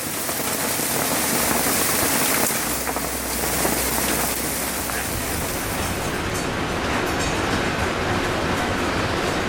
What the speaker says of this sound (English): The hail is still coming down nicely.